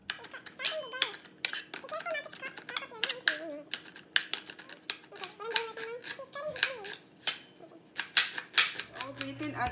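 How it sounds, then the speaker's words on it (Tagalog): Knife chopping garlic on a cutting board in a home kitchen, a rapid series of sharp, close, irregular taps about twenty in ten seconds, with brief bits of talk between the strokes. "we're gonna chop this garlic first"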